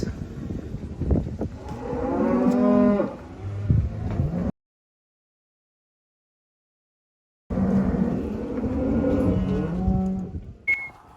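Spring cows on a farm moo loudly and close by, one long call, a pause of silence, then another drawn-out moo.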